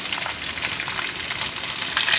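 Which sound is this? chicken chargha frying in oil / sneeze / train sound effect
chicken chargha frying in oil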